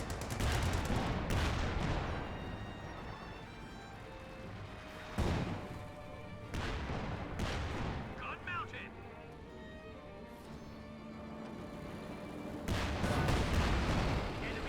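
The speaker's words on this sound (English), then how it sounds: "Detonates the landmine there" Landmine detonating in Company of Heroes 2 amid a World War II battlefield, a loud sharp blast standing out among repeated booming artillery and gunfire bursts, with a commentator talking over the combat throughout.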